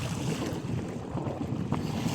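Strong wind buffets the microphone at sea while big waves wash around a boat, a continuous loud roar with surging swells and no break.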